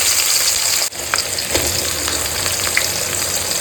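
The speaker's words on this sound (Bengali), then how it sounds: "দেখো পেঁয়াজটা একটু হালকা হালকা ভাজা ভাজা হয়ে এসেছে" Chopped onions sizzle steadily in hot oil for a mutton curry with papaya and potato, flavoured with bay leaf, cardamom, nutmeg, cinnamon and cloves. Close, continuous frying crackle runs alone, with a brief soft stir or thump.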